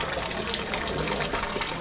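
Cold water runs and splashes steadily on a hot day in Dinajpur, a constant bright gushing with no talking.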